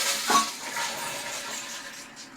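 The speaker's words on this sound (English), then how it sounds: "what it's allowing it to do right there is pull air into this entire tank before it's being filled up with water" A Flushmate pressure-assist toilet tank draws in air with a steady, soft hissing rush, close and continuous, with a brief faint tap near the start.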